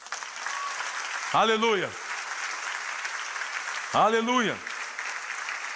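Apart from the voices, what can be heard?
church congregation applauding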